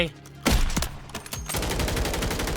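Gunfire in the video game Warzone, a couple of loud close shots followed by a sustained rapid automatic burst that runs to the end.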